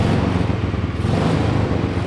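A supercharged lawnmower engine with a proper exhaust, fitted in a miniature trophy truck, revs loudly and close by. The rough, raspy roar carries on without a break and no one speaks.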